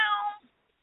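A human voice imitates a cat's meow, one short nasal mewing call that fades quickly into silence.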